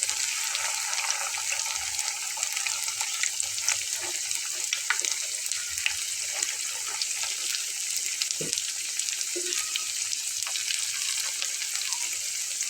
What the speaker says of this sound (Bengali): একটু আস্তে আস্তে করে ভেজে নিলে আলুটাও কিন্তু খুব ভালো ফ্রাই হয়ে যাবে।